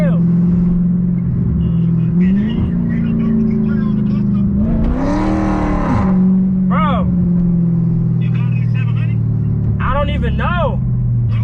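A Dodge Hellcat Charger engine drones loudly from inside the cabin, its pitch rising and falling as it accelerates and shifts toward top speed, with people talking over it.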